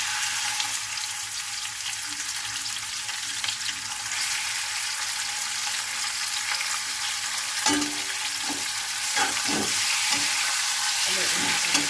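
Pork frying with mixed vegetables in a pan gives a loud, continuous sizzle that fills the clip, with a few stirring knocks and scrapes late on, close up.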